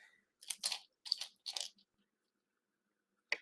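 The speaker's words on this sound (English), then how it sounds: "we're next going to insert the small pulley into the generator" A small pulley being pushed into the generator of a VW T1 Samba scale model, heard as four close, quiet plastic clicks and crunches, three grouped together and a last one after a silent pause.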